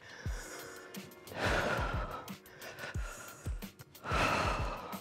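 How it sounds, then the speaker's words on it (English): Breaths taken between exercise moves such as back kicks, heard as several audible gasping inhales and sighing exhales, close and fairly quiet, with no speech. "take a deep breath"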